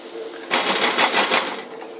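A whisk scrapes and taps rapidly against a cast iron pan while bacon gravy and milk are worked together, a brisk clattering burst lasting about a second, close and fairly loud, with quieter room tone before and after.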